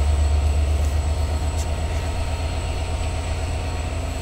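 A train stands idling at Parbatipur railway junction, its heavy engine giving a steady, loud low rumble with a constant hum throughout and no talk.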